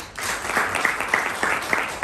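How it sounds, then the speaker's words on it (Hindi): An audience claps together at a seminar closing, a dense steady patter of many hands with a few sharper individual claps, fairly close and sustained for the whole two seconds. "मेरे सम्मान में आपने खड़े होकर के तालियां बजाई।"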